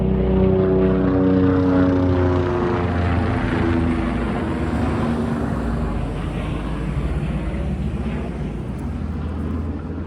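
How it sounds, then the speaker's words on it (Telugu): A loud, steady engine drone with a throbbing rotor hum passes overhead, filling the whole stretch and slowly easing off toward the end. "హెలికాప్టర్ వెళ్తుంది పైన"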